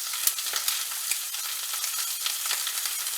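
A salmon fillet sizzles skin side down in a hot pan, giving a steady, dense frying hiss with faint crackles throughout.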